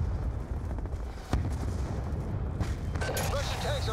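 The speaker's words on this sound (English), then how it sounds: "Enemy tanks are firing on the base." Enemy tank cannon fire pounds a base in the Call of Duty: Black Ops 2 campaign, heard as heavy rumbling booms with sharp blasts near 1.3 and 3 seconds over a continuous low battle roar, with faint voice-like sounds late.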